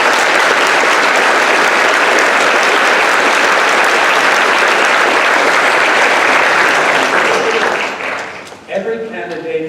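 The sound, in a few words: audience applause greeting the candidates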